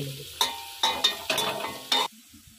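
Carrot, capsicum and beans for fried rice are stir-fried in a pan, with about five quick scraping stirs that each set off a short burst of sizzle, separated by brief near-silent pauses.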